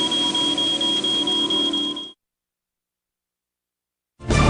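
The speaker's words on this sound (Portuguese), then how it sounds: "Quando as partículas de fumaça rompem essa corrente, o alarme dispara." Smoke detector alarm going off, a loud, steady, piercing electronic tone with a harsh buzzing edge, close by, sounding continuously for about two seconds, then silence before another loud burst starts.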